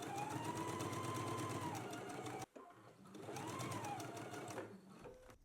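A sewing machine runs steadily, stitching an ease stitch along the curved edge of a t-shirt, with a brief pause partway through before the motor resumes its even whir.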